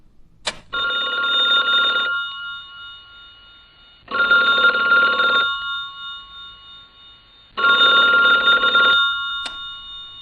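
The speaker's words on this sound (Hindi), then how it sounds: "अचानक फोन की घंटी बजी।" Classic telephone bell rings in three loud, close bursts of about a second and a half each, separated by silent pauses, with a brief click near the start and end.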